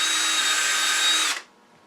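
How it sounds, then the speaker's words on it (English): Power drill boring a hole into a wood-turned apple, a loud steady whine held for over a second, then cutting off abruptly into near silence. "And then we're just going to drill a suitable hole,"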